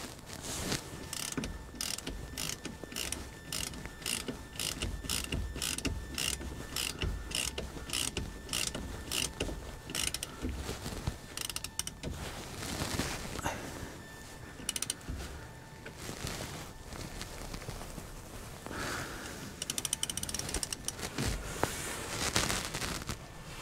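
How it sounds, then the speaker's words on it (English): A spanner turns a bolt on a Rover P5B rear shock absorber mounting, making a run of close, quick ratcheting clicks that later break into irregular metallic scraping and clanks. "Get a spanner on. Stop the bolt spinning."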